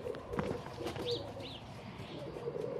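Ornamental pigeons in an aviary strewn with straw give a couple of brief, soft calls over a continuous murmur of low ambient noise and rustling.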